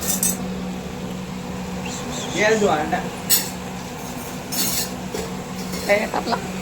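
Spoon stirring paneer bhaji in a pan on a gas stove at home, faint scraping and clinks against a steady background hum, with people talking nearby.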